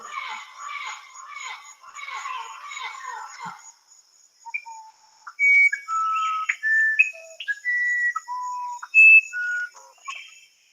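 Uirapuru bird song: a string of clear, pure whistled notes at varied pitches, each short and separate, following a burst of rapid warbling phrases, heard alone and fairly close.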